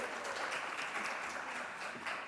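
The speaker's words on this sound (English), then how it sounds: "We need a hand clap for that." Lecture audience applauding in a newly renovated theater, a faint, steady wash of many hands clapping at a distance, even and sustained throughout.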